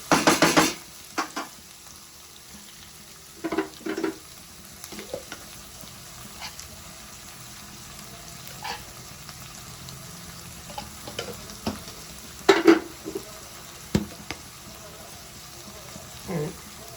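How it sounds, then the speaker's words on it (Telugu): Mutton paya soup being stirred in a pan, with a steady sizzle of frying beneath scattered scraping and clinking strokes of a spoon against the metal, some sharper knocks standing out near and loud. "అంతా కలుపుకోవాలి."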